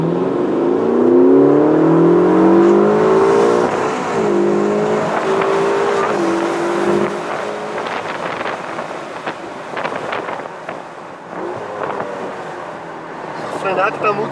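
A car braking hard and shifting gears, heard from inside with wind noise; the engine whine drops in pitch through successive shifts, then rough bursts follow, while people talk throughout.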